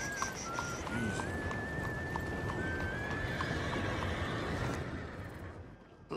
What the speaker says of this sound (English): How's that horse doing?